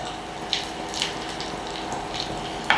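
Water poured into a bowl of yogurt and gram flour, a continuous running, trickling flow with a few small clinks of a utensil, at moderate level and with no talking.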